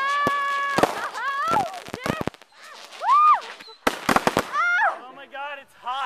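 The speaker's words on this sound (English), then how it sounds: "Look at all of these fireworks that Matt brought" Fourth of July fireworks crackle and burst close by in a string of sharp pops and whistles, some rising and falling in pitch, while people talk and react excitedly between the blasts.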